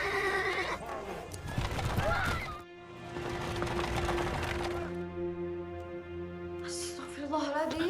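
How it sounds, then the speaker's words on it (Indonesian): A horse whinnies loudly and repeatedly while hooves clatter as it bolts out of control with a carriage, the frantic neighs cutting through a busy, dramatic mix with a brief lull midway. "kuda tadi sudah terpengaruh oleh Didi berlari tak terkendali dan menabrak temannya"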